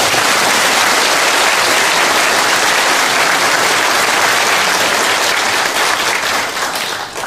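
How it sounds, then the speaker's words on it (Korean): Dense, loud applause from a large audience at a gathering honoring a veteran, a continuous wash of clapping sustained for about seven seconds before tapering slightly. "한 번 더 박수를 보내주십니다."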